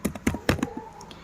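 Quick keystrokes on a computer keyboard, a burst of close, crisp taps in an uneven rhythm that slows to a few scattered clicks.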